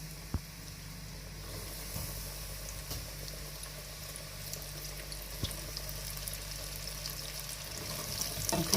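Marinated chicken leg pieces for a KFC-style recipe go into hot oil, and a quiet, even frying sizzle swells after a second or so, with occasional soft clicks and pops, heard without talk.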